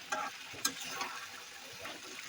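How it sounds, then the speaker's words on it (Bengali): Fried chicken pieces being stirred into curry masala for a Bengali chicken roast curry, soft sizzling beneath a few scraping strokes and light clinks of a spoon, fairly quiet and without speech. "যুক্ত করে ভালোভাবে নাড়তে থাকবেন।"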